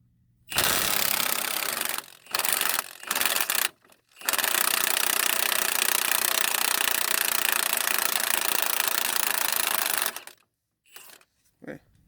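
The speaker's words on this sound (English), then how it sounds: "I want to see if my impact will take it off real quick." Impact wrench hammering off the hub bearing nut on a 2000 Pontiac Grand Prix GT, loud and close: a short burst, a few stuttering bursts, then one long sustained rattling run of about six seconds before it stops.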